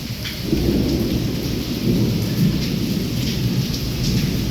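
Torrential first-of-monsoon rain lashes down during a nonstop lightning storm in Wankaner, India, a thick continuous hiss swelling after a quieter start, backed by deep thunder rumble, loud and near, no speech.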